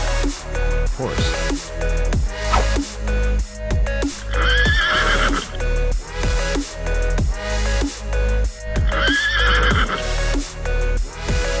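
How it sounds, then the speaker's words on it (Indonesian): A horse neighs and whinnies loudly in two long, rising-and-falling calls over a busy, music-like background with repeated rhythmic thumps throughout. "Horse."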